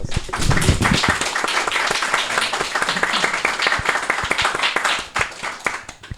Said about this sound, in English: I think I'll give deserves another round of applause.